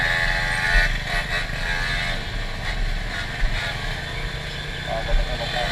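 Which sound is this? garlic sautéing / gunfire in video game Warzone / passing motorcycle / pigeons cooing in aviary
passing motorcycle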